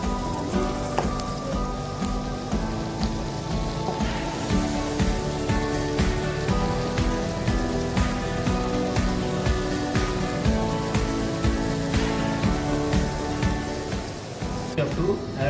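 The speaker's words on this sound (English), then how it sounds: "Roast cashews. Saute it until it gets brown in color, so it will be crispy in the rice." Cashews sautéing in ghee until brown for South Indian coconut rice: a loud, steady crackling sizzle runs throughout, with a tonal musical bed underneath.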